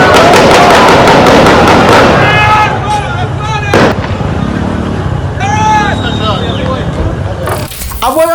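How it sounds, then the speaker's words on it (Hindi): Gunfire during an Israeli raid in Jenin, with sharp reports and a rumbling background. A reporter talks throughout the clip. "गोलीबारी की आवाज को महसूस कीजिए।"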